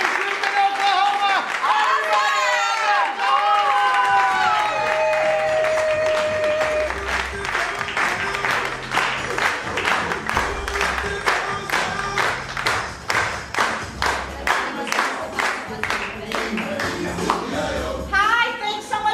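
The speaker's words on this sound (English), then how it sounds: "All right, get those hands clapping." A crowd applauds loudly and steadily, dense clapping filling the whole stretch, with voices and music mixed in near the start.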